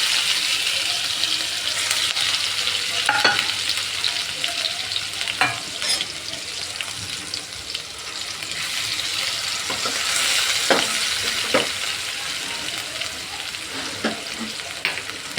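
Asafoetida and ginger-chilli paste crackle and hiss in hot oil for a rajgira-flour kadhi, a dense steady sizzle with occasional scraping stirs of a spoon, close and without talk.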